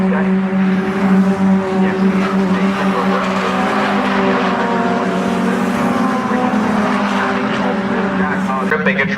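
TCR UK touring race cars battling closely for the lead at Snetterton, a loud continuous blend of revving engines and tire noise with commentary running over it.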